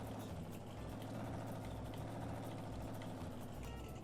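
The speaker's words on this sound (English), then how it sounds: "The engine sounds so good." A Chevy COE ramp truck engine idles in Farming Simulator 19, a steady low diesel rumble with a faint regular pulse, constant and fairly quiet throughout, no voices.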